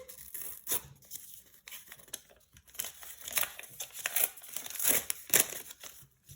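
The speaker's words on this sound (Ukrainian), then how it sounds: "Так, відкриваємо. Ладно, порвався пакетик" A paper packet being torn open up close, with crinkling and ripping sounds in irregular bursts and no talking.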